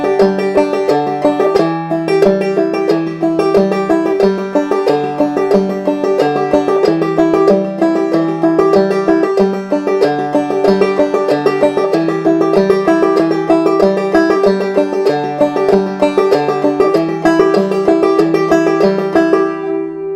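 Banjo played in an old-time double thumbing pattern, the fifth string peeled off after each downstroke, giving a steady, bright, continuous plucked rhythm heard alone and close for about twenty seconds.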